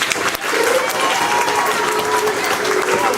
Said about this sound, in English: Let's have a big round of applause for the fifth graders.